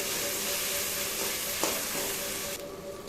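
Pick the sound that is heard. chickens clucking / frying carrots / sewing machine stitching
frying carrots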